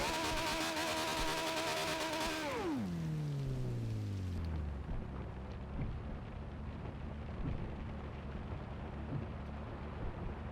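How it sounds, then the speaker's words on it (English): Steady hiss of heavy rain in the video game Forza Horizon 2 with a low rumble, while an engine tone drops in pitch and fades at the start. "It's raining."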